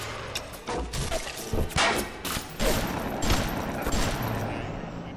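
Rapid bursts of gunfire in BioShock crackle around the player, sharp overlapping shots and thuds firing irregularly amid a loud, busy game mix.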